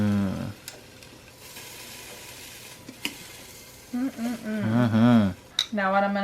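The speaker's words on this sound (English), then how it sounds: "I already preheated it, that's why it's sizzling." Food sizzles and crackles quietly in a preheated Ninja Foodi, a soft steady frying hiss with a few clicks, while a person talks over the later part.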